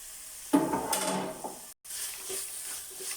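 A spoon stirs sautéed masala with turmeric, coriander leaves and curry leaves in a pan for koththu chapathi, with a loud scraping burst, sizzling underneath, a brief break, then softer frying continuing.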